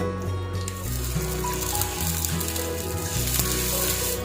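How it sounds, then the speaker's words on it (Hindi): Ginger garlic paste frying in lightly heated oil for mutton liver masala, giving a steady, close, continuous sizzle with a low hum underneath and no talking. "तो हल्का सा गरम हमारा ऑयल हो गया है तो इसमें हम अदरक लहसुन का पेस्ट डाल देंगे।"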